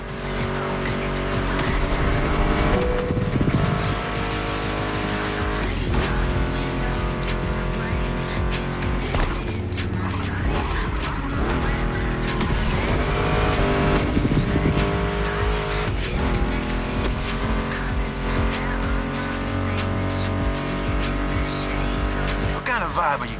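Mustang GT muscle car engines roar and rev in The Crew Motorfest racing game, with tire squeals and skids layered under continuous music riffs throughout.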